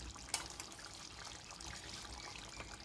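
Thick coconut milk pours into a simmering chicken curry with a faint, soft trickling and liquid splash, quiet and continuous after a brief sharp tap at the start.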